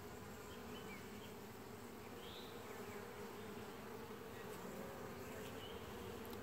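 Honeybees hum inside an open hive during an inspection, a steady, faint drone that stays even throughout without any voices.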